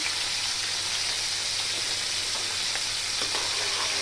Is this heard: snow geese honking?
no